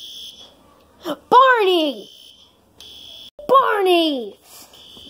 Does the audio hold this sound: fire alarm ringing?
yes